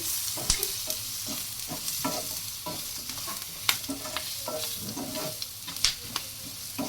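Coriander seeds and spices frying in a pan for a Kerala-style fish curry, a close crackling sizzle with frequent stirring scrapes and taps against the metal.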